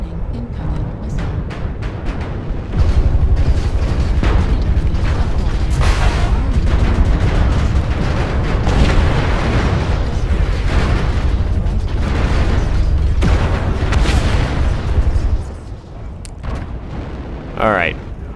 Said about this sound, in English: Warning, incoming missile.